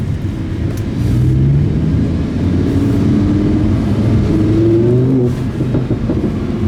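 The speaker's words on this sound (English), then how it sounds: "Wow, that's the bangs from the exhaust." A Lamborghini Huracán LP610-4 with its stock exhaust gears down on a Stockholm street, giving a loud, continuous low engine rumble with shifting revs close by and no voices.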